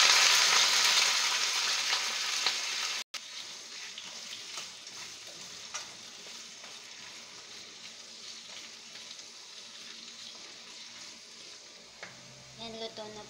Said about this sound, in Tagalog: Painit tayo ng oil. Tapos lagay natin yung ating patatas tsaka yung carrots